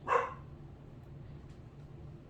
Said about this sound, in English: I don't know why she's barking so much